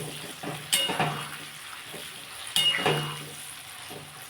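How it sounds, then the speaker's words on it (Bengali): Mango pieces with turmeric cooking in hot mustard oil for a pickle, a soft sizzle broken by a few close scraping stirs of a utensil against the pan, no talk. "যতক্ষণ না আমটা একটু নরম হয় ততক্ষণ আমি একটু এটা রান্না করব"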